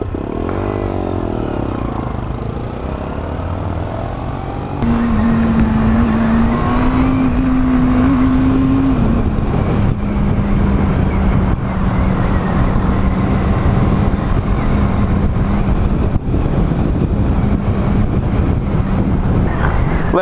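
A Braaap Urban 2016 motorcycle's exhaust drones loudly and steadily while riding, a rough low buzz that steps up in pitch as the bike accelerates, heavy wind rush layered over it.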